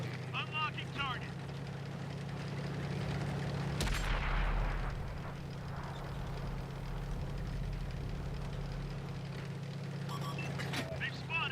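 Tank cannon firing in World of Tanks on Xbox One, one heavy boom over a steady engine rumble and battle noise, with game voice lines before and after.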